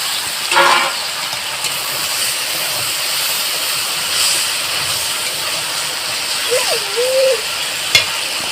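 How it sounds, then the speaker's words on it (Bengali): Spices and chopped tomato frying in a pan for a pointed gourd and shrimp curry give a loud, steady sizzle, with a few soft scraping clicks from gentle stirring and no voices. "আবারও আমি হালকা হাতে এইভাবে নেড়ে নেব"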